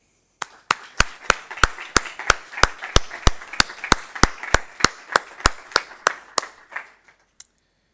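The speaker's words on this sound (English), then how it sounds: "please join me in an applause for us all" Steady, evenly spaced hand claps, about three per second, crisp and close, stopping after several seconds with one final clap.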